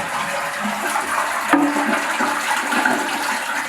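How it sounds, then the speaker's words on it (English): A household toilet flushing during removal work, a loud steady rush of water swirling down the bowl for several seconds, close up with no talk. "And now I'm going to flush the toilet."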